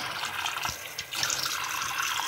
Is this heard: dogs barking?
no